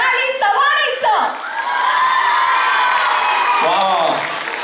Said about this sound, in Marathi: ती जोरदार टाळी आपण स्वागत करूया प्रणाली चव्हाणीचं